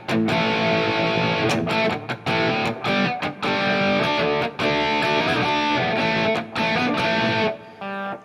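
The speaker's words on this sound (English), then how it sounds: "Can also sound really nice for crunch tones if you are using less gain." Crunchy, lightly overdriven electric guitar through a NUX MG-30 modeler preset with lower gain, grunge-style, playing steady strummed chords with brief gaps, loud and close, ending on a short final hit before silence.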